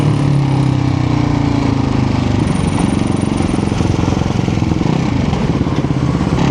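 A Ducati Hypermotard 698 RVE supermoto motorcycle's single-cylinder engine running loud and close, a steady throbbing rumble that rises in pitch as it revs, with wind noise and no talk.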